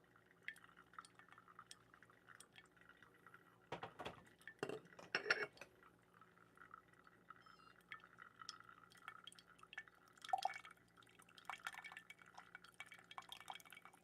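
Water trickles and drips during pour-over coffee brewing with a Mellow Drip kettle, quiet and close, with occasional clinks of glass and utensils.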